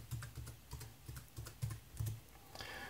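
Quick, uneven keystrokes on a computer keyboard as a username and password are typed, close and clear, with short pauses between bursts and no talking.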